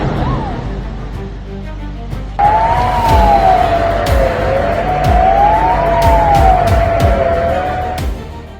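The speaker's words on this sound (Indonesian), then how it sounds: "Sirene tidak berhenti." A wailing siren rises and falls in slow repeated sweeps during an Iranian missile attack on Tel Aviv, Israel, loud and sustained over a rumbling background with occasional thuds.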